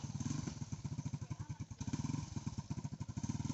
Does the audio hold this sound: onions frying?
no